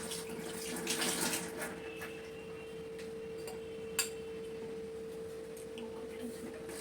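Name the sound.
washing a coconut under running tap water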